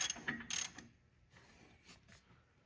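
A ratchet clicks rapidly while a bolt is backed out during a G56 transmission swap. A loud burst of ratcheting comes first, then fainter, scattered mechanical clicks follow.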